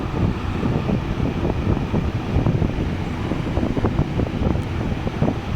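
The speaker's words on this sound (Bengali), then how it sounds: "তো দেখো, আমি মাংসটা ভেজে নিচ্ছি" Meat frying in a pan with onion and chilli, a dense, steady sizzle with crackling pops running throughout, close and fairly loud with no talking.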